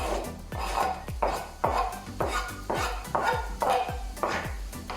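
Onion goes into a pot while cooking pasta carbonara: a quiet, rhythmic series of scraping, clinking stirs against the pan, repeating roughly every half second over a low background sizzle.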